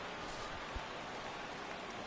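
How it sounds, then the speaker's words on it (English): Steady rain falls during a baseball game in MLB The Show, heard as a faint, even hiss of rainfall with a soft, brief thump in the middle and no voices. "The rain is intensifying right now."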